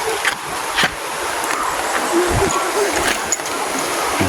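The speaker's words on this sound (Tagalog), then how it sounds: "Yan ang batis or sapa galing sa pools." Water from a stream fed by pools at an adventure park runs in a steady broadband rush, with some brief louder splashy bursts and faint voices in the background.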